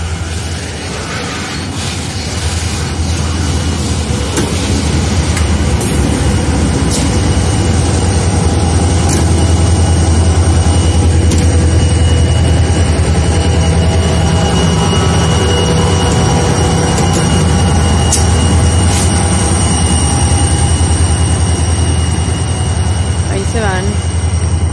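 Heavy freight locomotives rumble low and steadily as a train rolls by at a rail junction, with metallic squeals and clanks rising over the constant engine drone.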